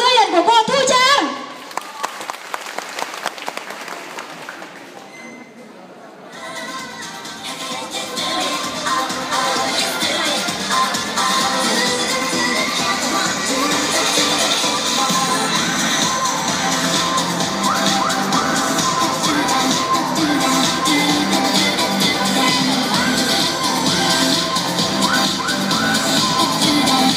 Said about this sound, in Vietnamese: mời một tràng vỗ tay lớn đón chào đón sự xuất hiện của cô Thu Trang